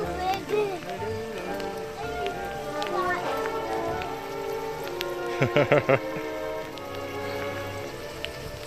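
Rain falls steadily on a summer day, a soft continuous patter under close voices of an adult and someone talking, with a few sharper drip or splash taps near the end.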